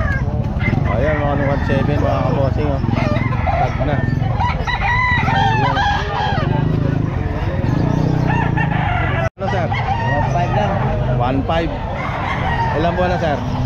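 Young stag rooster crowing repeatedly at a busy outdoor pet market in Calumpit, with other fowl clucking and people bargaining nearby throughout.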